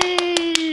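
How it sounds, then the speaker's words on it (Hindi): Audience clapping at a Maithili comedy stage show, heard as five loud, sharp, evenly spaced claps over a steady sustained tone, with no talk in the clip. "पूजा जनकपुर वाली उनका नाम से एक बार जोरदार ताली"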